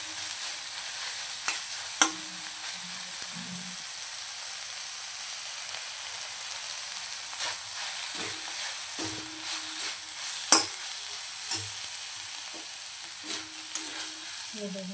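Fenugreek leaves (methi) sauté in a pan with a constant soft sizzle and frying hiss, broken by occasional scraping and clinking of the spatula against the metal as they are stirred.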